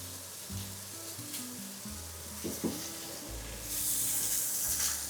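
Pork steaks sear in a hot pan beside a pot of pasta, giving a soft, continuous sizzle with occasional clinks and stirring noises that grow brighter and louder near the end.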